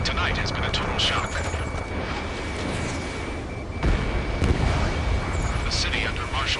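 Jet cannon fire and explosions roll through city streets in the combat flight game Ace Combat 7, a dense, continuous roar of blasts and rumbling booms that swells near the end, with a faint steady tone running beneath.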